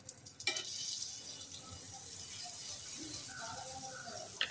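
Butter melting on a hot tawa griddle crackles and sizzles close by, with a bright, steady hiss and small pops, while faint clinks sound near the end.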